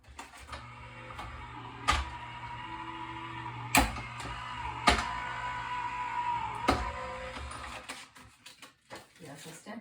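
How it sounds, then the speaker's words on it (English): A Sizzix electric die-cutting machine runs with a steady mechanical whir and hum, punctuated by several sharp clunks and clicks as the card passes through, before the motor winds down near the end. "You'll hear my electric machine going here."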